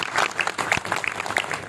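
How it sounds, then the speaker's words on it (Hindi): Welcoming applause for Ramkaran Nirmal at a memorial gathering for Bahadur Shah Zafar's death anniversary, close, uneven clapping from a modest crowd with distinct individual claps standing out. "रामकरण निर्मल जी के लिए तालियों से स्वागत कर लीजिए।"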